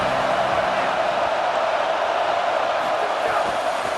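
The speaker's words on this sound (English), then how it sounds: "This crowd ready to make its presence known." A stadium crowd in EA Sports College Football roars in a dense, continuous wall of noise that stays loud and steady throughout.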